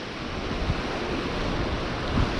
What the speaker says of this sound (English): Can't get any lower down to the water because it's just going to get hammered by the swell.